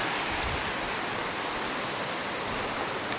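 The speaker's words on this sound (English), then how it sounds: "they're joined with this lovely little river." A small river runs through a narrow Highland valley in Assynt, its broadband rushing wash steady and continuous, close and fairly loud, with no voices.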